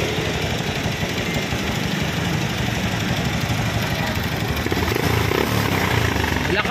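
A Kubota-style R180 single-cylinder diesel engine runs loudly during repair, a harsh, steady knocking rumble at close range with strong vibration and no let-up.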